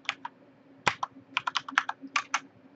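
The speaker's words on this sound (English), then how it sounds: "Next, let's go ahead and type" Keystrokes on a computer keyboard as commands are entered in a Packet Tracer networking lab, coming in quick uneven bursts of clicks, close and clear, with a low steady hum beneath and no voices.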